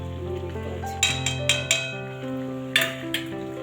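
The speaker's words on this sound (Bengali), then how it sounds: "চিংড়ি মাছ দিয়ে, উচ্ছে, আলু, বেগুন দিয়ে একটু মাখা মাখা করে ঝাল করছি আর কি।" A shrimp curry with bitter gourd, potato and eggplant cooks in a pan, with a low background hum broken by several sharp metallic clinks and scrapes of a utensil against the pot.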